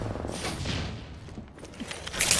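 Gunfire in the Apex Legends video game, a dense burst of rapid shots with thuds and mechanical clatter, fairly close and loud throughout.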